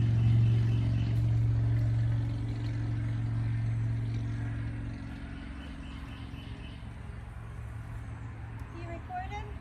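A push lawn mower running close by, a steady droning engine hum that holds level and then eases slightly, with a faint voice underneath.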